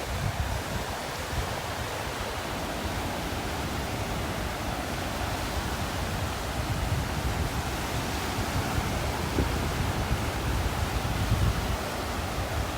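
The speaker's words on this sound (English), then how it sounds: "Windy and wavy." Strong wind roars steadily over crashing ocean surf on a beach in North Naples, Florida, a dense, continuous wash of noise with no pauses.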